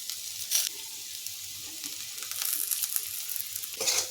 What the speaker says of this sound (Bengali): এখন এর মধ্যে ভেজে রাখা কাঁচা কলাটা দিয়ে দিচ্ছি